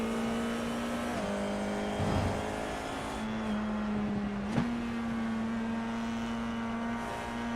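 An FIA F4 race car on a championship lap, its engine droning steadily with pitch shifts as it brakes and accelerates through gears, heard from onboard without talk.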